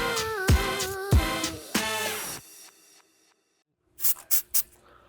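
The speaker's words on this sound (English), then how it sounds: "Use a little bit of brake parts cleaner as lube for this grommet." Brake parts cleaner is sprayed on a caliper grommet during BMW X5 (G05) front brake work: three or four short, sharp hissing spray bursts come near the end, after some louder tonal sounds and a moment of quiet.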